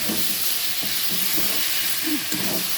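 Ginger and turmeric paste with spices and a little sugar sautéing in a pan for a fish curry. It makes a steady, close sizzle and hiss with soft stirring scrapes throughout, and no one talks.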